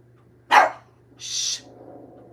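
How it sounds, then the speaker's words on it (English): Dogs indoors giving a sharp single bark followed by a higher, softer yelp-like sound, then a faint low murmur, all over a quiet steady hum. "There goes my dogs again."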